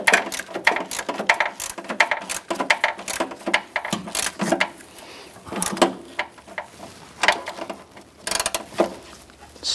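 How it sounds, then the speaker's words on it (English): A hand ratchet tightens the upper fender bolts on a 1997-2006 Jeep Wrangler, giving rapid, close, clicking bursts in uneven strokes with brief pauses between runs. No one speaks over it. "Now go ahead and tighten down the 2 upper bolts."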